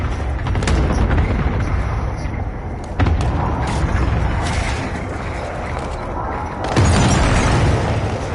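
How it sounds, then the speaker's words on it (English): Cluster strike explosions in the Warzone video game, a run of heavy booms and bursts rolling continuously over about eight seconds, with sharper impacts near the start, at three seconds and again near the end. "Allied cluster strike inbound."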